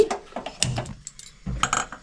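A wok is set down on a gas stove to heat, giving a few close metallic clanks and scrapes spaced over about two seconds, with no talking.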